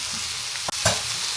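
Butter sizzling in a pan with paneer and mushrooms, a steady close hiss with a brief sharp knock and a small burst of crackle partway through, no talking.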